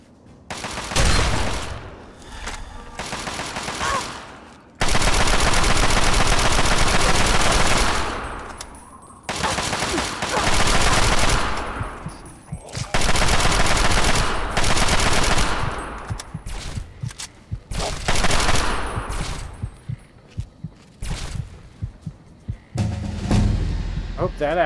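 Enemy gunfire in Fallout 3 rattles out in loud, sustained automatic bursts and scattered shots across the whole stretch, with someone talking now and then between volleys.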